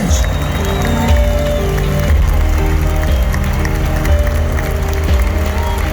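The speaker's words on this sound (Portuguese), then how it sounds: "todos possam dar a Deus uma linda salva de palmas agora por esse momento" A large indoor crowd at a 2022 Bolsonaro presidential campaign rally in Maracanãzinho arena applauds and cheers continuously and loudly, mixed with music and an amplified voice.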